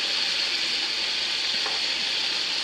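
Bacon sizzles in a cast iron pan with a steady, dense crackle that stays loud and even throughout, with no voices over it.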